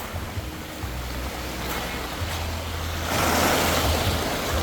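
Sea waves washing ashore at Malande beach in Zamboanga City, a steady loud rush of surf with low rumbling swells that builds toward the end, with wind buffeting the microphone.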